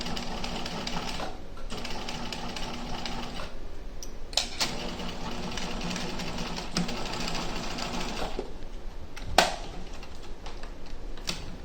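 A sewing machine stitches down face mask pleats in a fast, steady mechanical chatter, running continuously and close by with brief slowdowns and a sharp click near the end.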